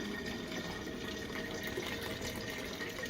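Beer wort for a dry Irish stout pours into a fermenter with a continuous, fairly quiet liquid rush and gurgle, heard alone at close range.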